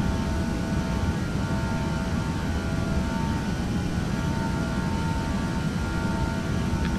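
Airliner engines roar steadily at takeoff power in the FSX flight simulator game, a loud, constant broadband rumble and whine that fills the whole stretch without a break.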